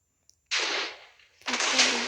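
TNT explosions in the Craftsman video game, two loud bursts in quick succession, the second longer and heavier, close and alone after a brief click.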